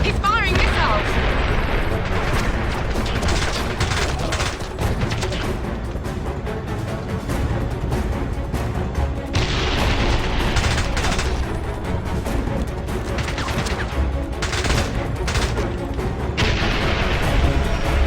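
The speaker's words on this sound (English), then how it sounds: "James, he's firing missiles." Missiles being fired during a vehicle chase in the James Bond 007 Blood Stone video game, a dense continuous roar of blasts and explosions at high level throughout, with no let-up.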